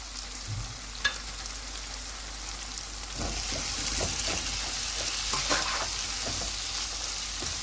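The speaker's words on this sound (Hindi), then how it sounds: "अब मसाला भूनते हुए हम मेथी भी डाल देंगे।" Masala frying in a pan as fenugreek is added, a steady close sizzle that swells louder partway through, broken by scraping stirs and light clinks, with no talking.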